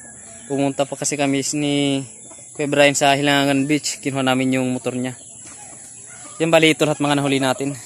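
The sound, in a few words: chickens clucking near the house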